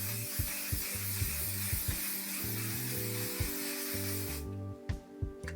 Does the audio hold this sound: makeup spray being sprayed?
yes